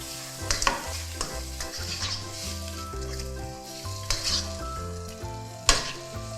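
Wide rice noodles stir-fried with soy sauce and dark soy in a pan, with steady sizzling under repeated scraping and clanking of a utensil against the pan and a few sharp metallic knocks; no talking.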